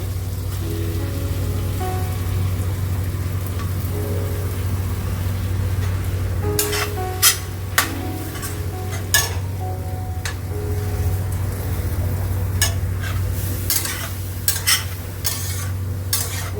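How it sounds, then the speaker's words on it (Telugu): Soaked puffed rice is tipped into a pan and stirred while cooking Rayalaseema-style uggani, giving wet, crackly scraping and stirring strokes over a steady low hum, with sharper bursts of scraping in the second half. "వేస్తూ అట్లా మిక్స్ చేసుకుంటున్నాం."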